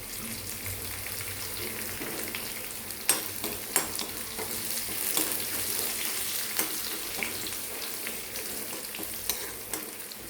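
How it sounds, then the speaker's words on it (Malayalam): Curry leaves dropped into hot oil for a quick Indian gooseberry pickle, crackling and sizzling in a steady hiss with scattered sharp pops and stirring clicks, close and unaccompanied by talk. "ഇനിയും കറിവേപ്പില അങ്ങോട്ട് ഇട്ട് കൊടുക്കാം"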